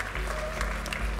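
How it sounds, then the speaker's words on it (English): A poker tournament audience at the EPT 13 Malta main event final table applauds the new champion, a short dense burst of clapping heard up close. "Let's get a big round of applause for EPT 13 Malta champion, Alexei Boyka."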